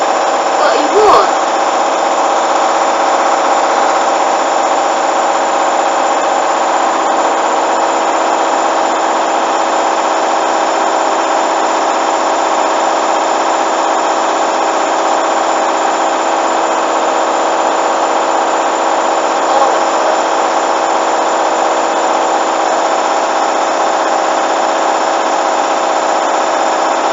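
A Hoover washing machine spins a coloureds load on a 30°C cycle, a loud, steady, high-pitched whirring drone that holds unbroken throughout, with people talking faintly over it.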